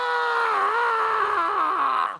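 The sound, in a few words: voice imitating a screech owl's screech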